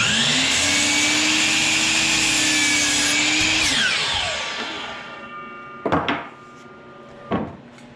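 A power saw cuts 45-degree angles on 1x4 boards for custom chicken coop doors: a loud whining motor runs through the cut, spins down, then two knocks as boards are set down.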